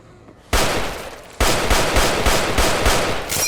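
M1 Garand rifle fire in the video game Those Who Remain: two loud single shots, then a rapid, evenly spaced string of close, sharp reports.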